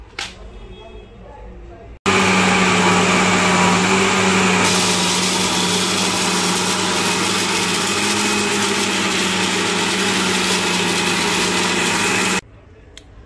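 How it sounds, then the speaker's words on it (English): An electric grinder grinds spices, including black pepper for bulk kebabs, into a fine powder with a loud, steady roar that starts abruptly, runs for about ten seconds and cuts off sharply. "Alafu kwa hizi, tutazitia kwenye grinder. Tuzi grind paka iwe smooth, yani powdery form."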